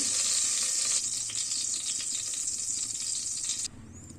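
Mustard seeds sizzle and crackle in hot oil inside a pressure cooker, a steady close hiss that drops away abruptly near the end.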